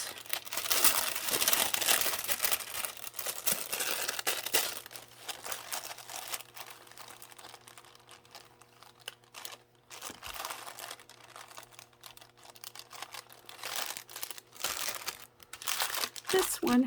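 Paper crinkles and rustles as a bag of vintage paper cutouts is handled, with bursts of crumpling close by that come and go over a faint steady hum.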